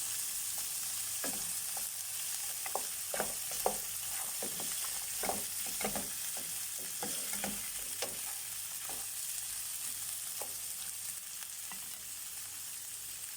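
Meat sears in a hot pan with a steady hiss, broken by scattered scrapes and clicks as it is stirred, close and moderately loud with no talk.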